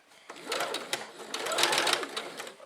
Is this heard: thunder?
no